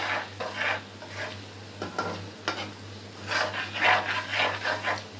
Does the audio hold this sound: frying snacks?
yes